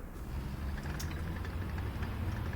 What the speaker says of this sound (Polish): Plus jeszcze słyszę pojazd z innej strony.